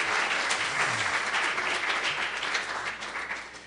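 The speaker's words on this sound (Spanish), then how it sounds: "Denle un aplauso fuerte al Señor Jesucristo." A church congregation gives a strong round of applause for Jesus Christ, a dense, continuous wash of many hands clapping, loud and sustained for the whole stretch.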